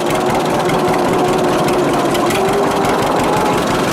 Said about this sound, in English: Got a bit of noise down there, but I think it's just the gears going around.